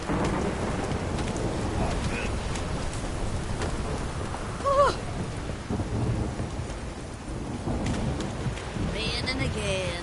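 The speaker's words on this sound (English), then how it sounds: "Raining again." Steady rain and rumbling thunder in the video game Witcher 3: Wild Hunt, a continuous downpour with low rolls of thunder and a brief voice mixed in.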